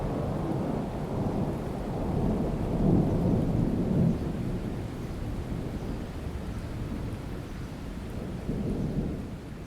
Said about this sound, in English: So if you hear rumbles in the background of the recording, that'll be the thunder